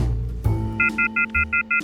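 Six evenly spaced telephone keypad tones beep in a steady rhythm in the phone dating game Dialtown, following a low rumbling thud, each tone short, clear and fairly loud.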